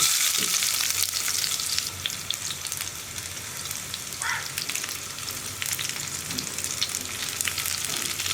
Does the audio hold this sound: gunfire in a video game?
no